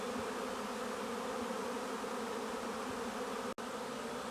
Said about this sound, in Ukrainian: Довго тут літали розвідники в цю роїловку.